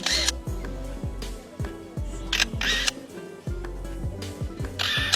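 A bird mimics a camera shutter, giving a series of crisp mechanical clicks at uneven intervals, each sharp and close, with faint whirring between them.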